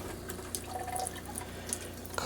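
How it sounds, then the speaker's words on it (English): Hot-side faucet at an RV sink spits and sputters as trapped air in the water line breaks up the flow, with uneven bursts and splashes over steady running water, close by. "You can hear we've got some air in the line there."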